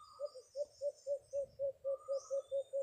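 An alimokon dove calls in a forest during a bird hunt, giving a regular run of about a dozen soft, evenly spaced coos, moderately close, with faint high bird chirps in the background and no voices.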